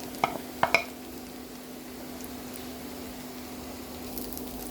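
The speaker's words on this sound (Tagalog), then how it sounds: "Let's fry for also about a minute." Moghrabieh pearl pasta frying in a pan for Lebanese moghrabieh with chicken, a soft continuous sizzle under a low steady hum, opened by a few brief clinks of a utensil stirring against the pan.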